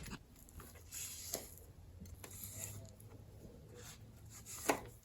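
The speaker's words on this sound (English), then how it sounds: "I'm also chopping the lemon" A knife taps against a cutting board in scattered, quick chops of orange and lemon zest, soft and close, with a few louder knocks.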